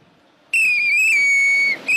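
A whistle blown once in a long, steady blast of about a second, loud and close, with a brief second toot right after; no talking.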